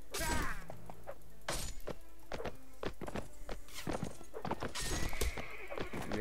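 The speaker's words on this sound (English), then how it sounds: "Look at that horse." Horses in the medieval combat game Mount & Blade: Warband give several loud neighs and whinnies over steady clip-clopping hooves. Sharp thuds and clashes are mixed in throughout.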